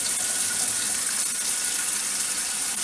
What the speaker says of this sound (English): my hot water from my tap, it gets very hot